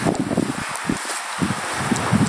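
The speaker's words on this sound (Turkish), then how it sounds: "Fazla rüzgar var." Wind gusts across a snow-covered hilltop forest beside an empty playground in Finland, a steady close rushing roar with rustling bursts that swell and dip throughout.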